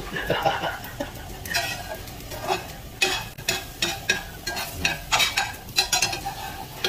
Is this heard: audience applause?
no